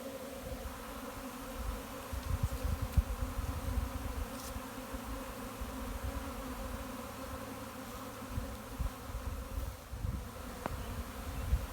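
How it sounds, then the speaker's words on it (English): A honey bee swarm in a tree fills the air with a steady, dense buzzing hum throughout, fairly close and unbroken, with no voices over it. "it doesn't sound like a mad hum, it just sounds like a buzz"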